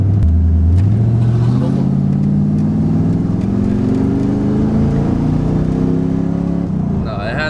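A Ford Mustang Foxbody engine runs and revs up loudly and steadily, its pitch climbing smoothly over several seconds before easing off near the end, with some talk mixed in over the engine.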